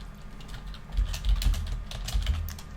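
Typing on a computer keyboard while building a simple platformer in Clickteam Fusion, a quick, uneven run of soft key clicks with some heavier thumps, close and moderately quiet, no speech.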